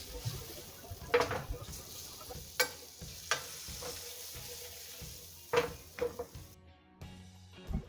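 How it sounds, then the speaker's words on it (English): Prawns sautéing in a pan for a prawn cocktail give a steady low sizzle, with several sharp utensil clinks and scrapes against the pan at irregular intervals, close and moderately loud, with no talking. "just saute it a little bit till you get it cooked"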